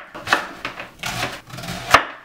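A knife cutting cabbage into pieces on a board, three or four separate crisp chops spaced unevenly, near and fairly loud, with no speech.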